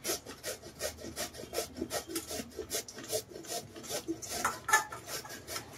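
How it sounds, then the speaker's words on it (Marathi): Sweet potato grated by hand on a grater, a steady run of rhythmic rasping strokes, close and fairly loud, with no voices. "आपण किसून घेणार आहे आता"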